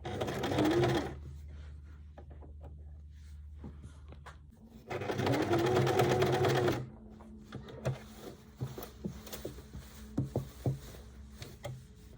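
A sewing machine stitching a tote bag lining together in two sustained bursts of fast rhythmic whirring, close and clear, separated by quiet pauses filled with small clicks and fabric handling.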